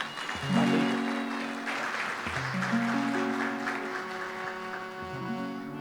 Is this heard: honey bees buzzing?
no